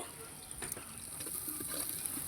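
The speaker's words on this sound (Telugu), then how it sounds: "పచ్చిమిరపకాయలు కూడా వేగిన తర్వాత ఉల్లిపాయలు వేసుకొని తిప్పుకోవాలి" Green chilies and onions frying in a pot while being stirred: a faint, steady sizzle and hiss with soft scraping taps of the spoon against the pot.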